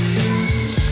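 Sugar and water boil in a pan for caramel, giving a loud, close, steady bubbling sizzle with a few clinks from the pan.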